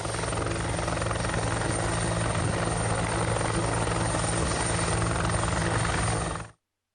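A helicopter flies during the evacuation of a victim from Kiwirok to Oksibil in Pegunungan Bintang, its rotor throbbing loud and steady for about six seconds before cutting off abruptly.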